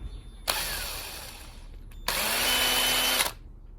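Two bursts of a high-pitched power drill whine drilling out a Weber carburetor jet from 1.1 to 1.3 mm, a short one then a longer one, close and loud with a quiet pause between.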